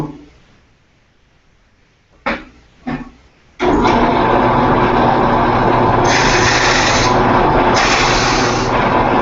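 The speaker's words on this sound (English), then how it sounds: "So I'm going to drill a hole in this little thing here." After a few brief clicks, a power drill starts up loudly and runs continuously, its pitch straining and rising in stretches as it bores.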